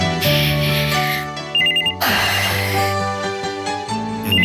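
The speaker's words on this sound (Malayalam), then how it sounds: "ഞാൻ ആ ഫോൺ നിർത്തട്ടെ." A telephone ringtone plays loudly and close, a repeating electronic melody that restarts after a brief break, with no talk over it.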